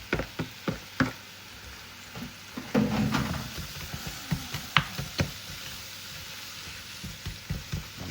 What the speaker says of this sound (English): So we're going to get that all in there. And get that to saute.